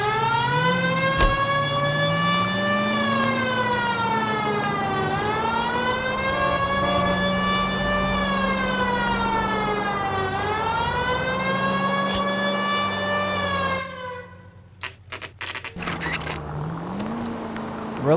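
An ambulance siren in the L.A. Noire video game wails loud and steady in rising and falling sweeps for most of the stretch, then cuts out near the end into a few brief clunks before a low tone resumes.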